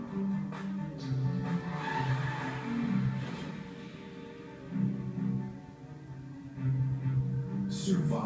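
A car in a texting-while-driving public service spot gives off a series of tire squeals and engine surges that come in repeated swells, moderately loud, with a brief hiss at the close.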